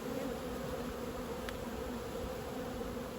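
Honeybees swarm around an open hive during spring inspection as a honey super is added, making a dense, continuous buzzing hum that stays close and steady throughout.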